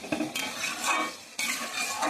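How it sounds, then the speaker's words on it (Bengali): Spice masala being stirred and fried in a pan, a close continuous sizzle with repeated scraping strokes of a utensil against the metal and a few sharper knocks, and no talk. "এবার আমি মশলাটাকে ভালো করে কষিয়ে নেব"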